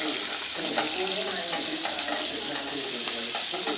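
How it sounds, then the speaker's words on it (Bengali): Chopped raw onion fries in hot oil with a steady, dense sizzle and occasional stirring clatter, continuous throughout without talk. "এবার ভালো করে এটা লাল করে সুন্দর করে ভাজিয়ে নিলাম"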